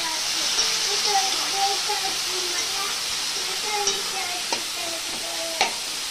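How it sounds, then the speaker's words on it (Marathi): Sliced onion and chopped tomato sauté in hot oil in a pan for a bhaji, giving a steady, moderate sizzle with a few faint clicks of a spoon stirring. A voice murmurs faintly underneath. "कांदा आणि टोमॅटो थोडंसं मऊ होईपर्यंत परतून घ्यायचं"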